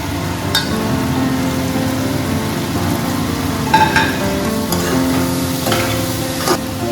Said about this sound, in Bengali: ক্যাপসিকাম কুচিটা দিয়ে আমি বেশিক্ষণ ভাজবো না।